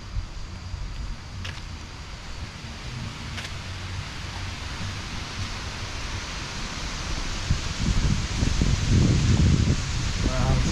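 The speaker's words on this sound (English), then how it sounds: "Wow, it's so windy, it looks like a storm is coming." Strong gusty wind ahead of an approaching storm on the far side of the Mekong at Luang Prabang roars steadily into the microphone, building into heavier buffeting near the end.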